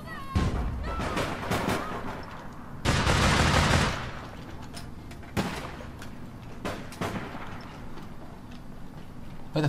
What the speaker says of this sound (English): Where the fuck are we getting sniped from?